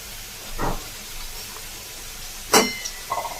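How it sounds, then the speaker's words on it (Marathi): Coriander fritters (kothimbir vadi) frying in hot oil, giving a steady, soft sizzling hiss, punctuated by a few brief sharper clatters and crackles, one noticeably louder near the end. "तळणं चालू आहे अजून"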